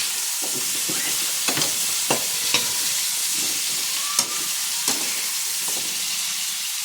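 Squash (kalabasa) sautéing in a pan, a loud, steady sizzle and hiss with occasional scraping clanks of a utensil stirring, close up.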